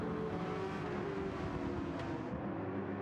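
Gr.3 race cars in Gran Turismo 7 roar steadily at close range, a dense continuous engine drone with a brief passing whoosh near the end, no voices over it.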